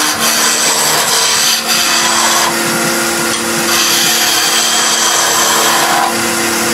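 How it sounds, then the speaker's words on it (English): Wood turning on a lathe with a small spindle gouge: a steady, loud whirring hum with rough, continuous cutting hiss that rises and falls, close up and with no talk. "Just a little bit of turning."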